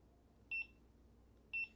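An electric unicycle lying dropped on the ground gives two short, clear electronic beeps about a second apart, faint and alone against quiet background.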